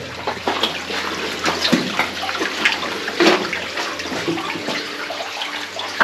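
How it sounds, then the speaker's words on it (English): Rainwater pours down as an underground waterfall on a wet day, giving a constant rushing roar that echoes in the enclosed space, steady and loud with no speech. "Waterfall all the way down on here on a wet rainy day."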